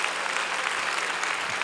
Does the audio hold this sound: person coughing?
no